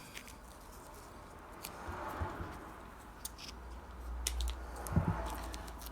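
Scissors snipping a strip of material during a car restoration, a few sharp irregular clicks and cuts over quiet room tone, with no speech.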